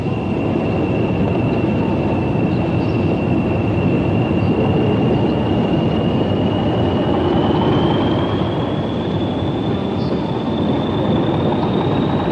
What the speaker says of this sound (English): A Moorgate train pulls up at York Road Station prior to dipping down in the tunnels